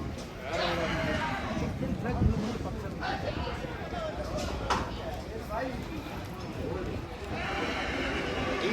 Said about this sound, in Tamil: இங்கே இருக்கிற குதிரை எல்லாம் சும்மா வேற லெவலுங்க